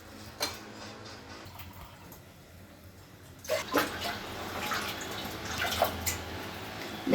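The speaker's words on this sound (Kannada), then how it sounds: "ಇದರಲ್ಲಿ ಸ್ವಲ್ಪ ಇವಾಗ ನೀರು ಹಾಕ್ಕೊಳ್ಬೇಕು." Water pours into a pot of rasam seasoned with a curry-leaf tempering. After a quiet start, splashy sloshing begins about halfway through and continues, close by and moderately loud, with no talking.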